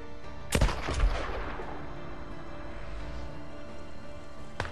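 Gunfire from the video game Days Gone as a sniper is shot: a sharp loud report followed by a second shot and a rolling echo, with another faint crack at the end.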